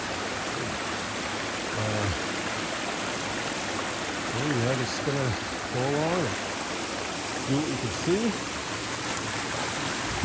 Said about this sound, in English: I came down here because I heard the water. There's a little culvert